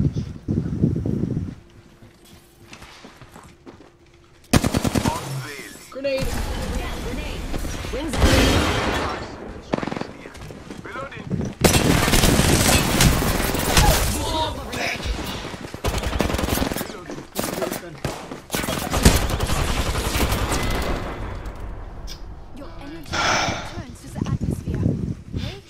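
Automatic R99 and Flatline gunfire in a video game, loud sustained bursts of rapid fire broken by short pauses, with a player talking over the shooting.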